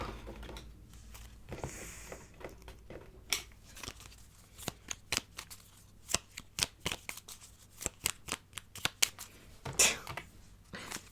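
Cards are riffled and shuffled in a string of quick, crisp snaps and flutters, close by and irregular, with quiet pauses between bursts.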